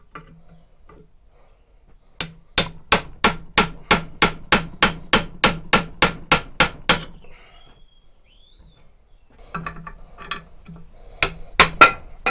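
A handle being hammered out of a cheap hatchet head: a rapid run of about fifteen sharp metallic blows, a pause, then a few more strikes, close and loud.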